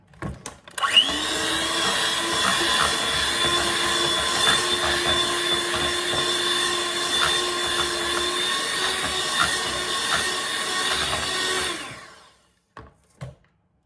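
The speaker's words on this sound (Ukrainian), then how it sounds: "Додаю лише маленьку кількість і потім взбиваю" An electric mixer whips chilled egg custard cream into whipped butter for a Kyiv cake, a loud steady whirring motor hum that starts abruptly and runs about eleven seconds before stopping, followed by a few clinks.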